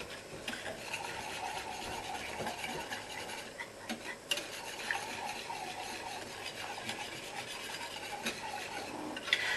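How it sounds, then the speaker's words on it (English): Sugar crystals gently whisked in a pan, giving a steady, soft scraping rasp with faint ticks of the whisk against metal, continuous and close, with no voices. "whisk, quite a gentle whisk. You don't need to be vigorous with it because the crystals will all melt together."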